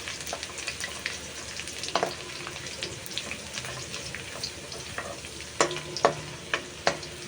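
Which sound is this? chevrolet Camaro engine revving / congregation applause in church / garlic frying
garlic frying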